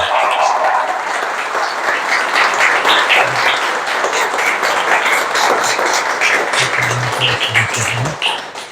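Audience applause following a talk on depression fills the room with dense, sustained clapping, loud and steady throughout with no speech over it.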